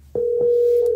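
Steady telephone ringback tone heard while placing a call to a real estate seller, a single sustained tone starting after a short silence and holding loud and unbroken to the end, with faint clicks at its onset.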